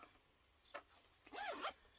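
A zipper on a stitching project bag is pulled in a couple of quick, close, crisp zips, with a short tug first and a longer rasping pull after, in an otherwise quiet setting.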